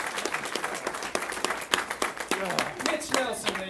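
A comedy club audience applauds comedian Mitch Nelson, steady dense clapping filling the room, with the host's voice calling out over it.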